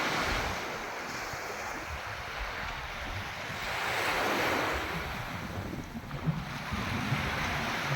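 Sea wind sweeps across a beach by clear emerald-green water, a constant rushing buffet over the soft wash of surf, with no one speaking.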